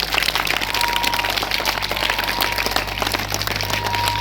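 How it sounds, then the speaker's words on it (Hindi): Children clapping loudly together on a school ground for Children's Day, a dense sustained patter of many hands with a steady low hum beneath. "जरा एक बार ताली बजा दो जोर से"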